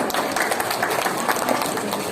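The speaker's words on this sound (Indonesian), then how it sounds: "Tepuk tangan untuk guru-gurunya dong" A crowd claps for the teachers at a Ramadan charity event held by an Islamic preschool, a short, loud, dense burst of applause from many hands throughout.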